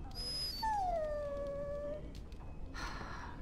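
A dog in a video game lets out a long, high whimpering whine that slides downward, with a shorter yelp before it, close and clear, followed by a brief burst of noise.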